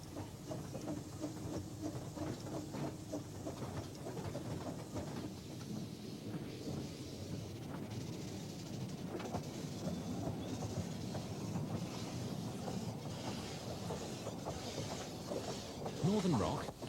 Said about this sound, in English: Northern Rock, a 262 locomotive,